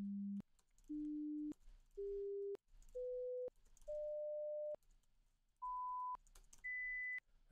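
A run of synthesized SuperCollider tones, steady and pure, plays as separate notes that step upward in pitch one after another with short gaps between them. No one speaks.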